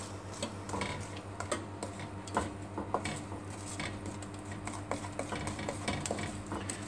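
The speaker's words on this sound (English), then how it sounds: "And you simply add the banana to the mix, and you mix this well." Mashed banana being mixed into butter, sugar and vanilla cake batter in a bowl, close irregular clicking and scraping of a utensil against the bowl with soft squelching, no voices.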